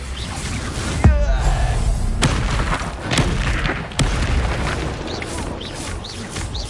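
A Confringo spell explosion in Hogwarts Legacy on PS5 gives a sharp, loud boom, followed by more blasts and impacts over dense game noise.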